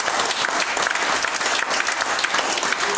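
A church congregation claps hands together in a steady, dense burst of applause that fills the whole moment, loud and continuous with no voices standing out.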